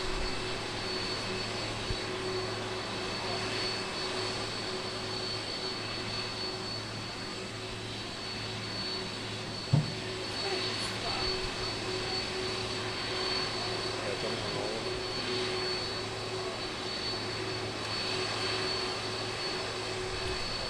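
Boeing 747 airliner engines at Manchester Airport, a steady distant jet roar and hum that holds for the whole stretch, with a brief knock partway through.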